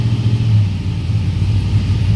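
An LS-swapped vehicle idles after a throttle body swap, a steady low, loud rumble with a slight wavering pulse, running alone without talk.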